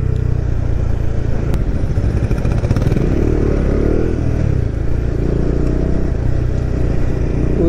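A Bajaj Dominar 400 motorcycle engine drones loud and close while riding, with a slight rise and dip in pitch as gears shift, running steadily without talk.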